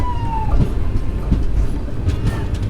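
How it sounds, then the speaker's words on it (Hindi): The Ahmedabad Jammu Tawi Express rolls slowly along the track with a steady low rumble, periodic wheel clunks over rail joints and a faint brief squeal, heard from inside the coach. "धीरे धीरे हमारी ट्रेन आगे बढ़ रही है"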